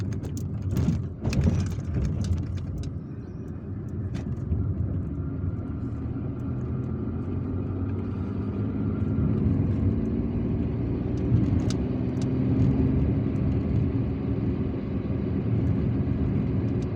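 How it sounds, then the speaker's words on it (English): A car driving through the streets of Algiers between Telemly and Ben Aknoun, a steady low engine and road rumble from inside the cabin with a few brief clicks and knocks near the start. "Now we are driving back to Telemly because it's a round trip."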